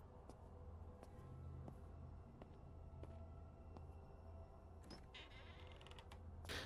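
A door in the horror video game Frightence creaks slowly open over a steady low ambient drone, the grinding creak stretching across several seconds with a few sharper clicks near the end.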